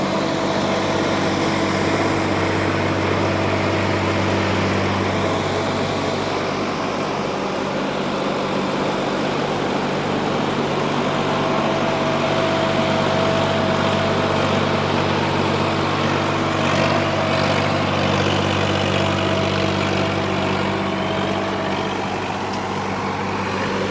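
A Preet 6049 Yoddha tractor engine with a creeper gearbox idles and rumbles nearby in a steady, droning hum, loud and unbroken for the whole stretch, with no one speaking.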